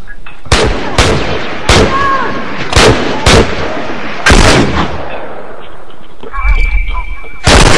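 Shotgun blasts in The Last of Us multiplayer, a series of about nine loud, sharp booming shots spaced irregularly across a few seconds amid game noise.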